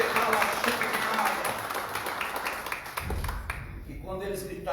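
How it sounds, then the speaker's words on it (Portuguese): Congregation clapping together during a church service, dense broadband patter loud from the start with voices and a low sustained tone underneath, thinning toward the end. "E quem crê dá uma salva de palmas para Jesus"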